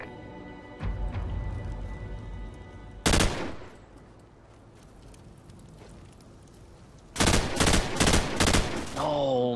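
Automatic gunfire in Call of Duty 4 Search and Destroy, one short loud burst early, then a longer rattling volley of several rapid shots near the end over low background hum.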